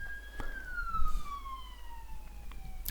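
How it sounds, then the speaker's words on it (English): Police car siren passing outside, a single wailing tone sliding slowly downward as the vehicle moves away, heard indoors at moderate distance over a low background rumble. "Sorry, police car outside."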